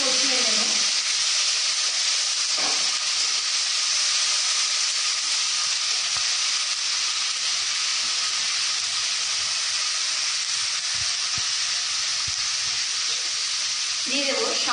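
Spices with ginger-cumin paste sautéed in oil in a pan for vegetable khichuri, producing a loud, steady, close hiss and sizzle that runs unbroken from start to finish.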